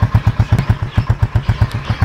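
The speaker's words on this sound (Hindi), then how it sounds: "बाइक निकाल के स्टार्ट कर लिया है" Saajid's motorbike, six months old with 1024 km on it, idles steadily after starting. It gives a close, loud, regular low thumping pulse about seven times a second, with no talk over it.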